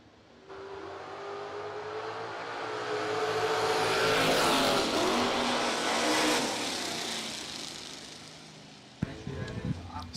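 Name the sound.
Chevelle and Nova drag racing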